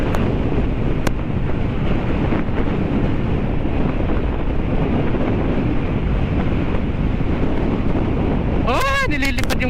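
Strong gusting wind roars across the microphone of a rider on a motorcycle trip through North Luzon, a loud steady buffeting rush throughout, with a voice cutting in near the end.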